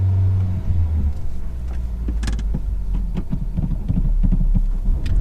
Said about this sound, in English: hear the revs, but I'm using the clutch to control that while checking round